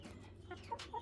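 Silver Laced Wyandotte chickens in a coop give a few soft, faint clucks, brief and scattered against quiet background hum.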